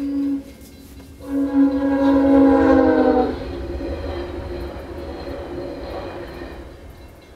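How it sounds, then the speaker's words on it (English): A long train passes close by, its horn blaring loudly for a few seconds before giving way to a steady heavy rumble of cars rolling along the track. "Why does it take so long to go by?"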